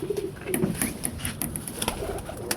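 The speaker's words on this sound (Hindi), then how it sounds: "ये कबूतर है" Soft pigeon coos murmur through a noisy background of rustling and faint clicks, low and fairly quiet.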